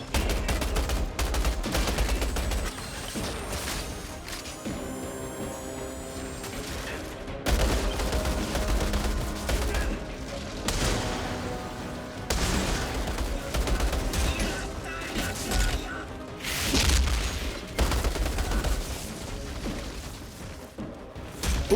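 LMG light machine gun fire in the Outriders shooter, with long sustained bursts of rapid, loud shots broken by brief pauses and layered with impacts and game effects.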